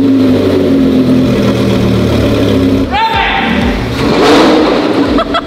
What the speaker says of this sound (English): Get in the car, open the door. Good times. Sit down, start it.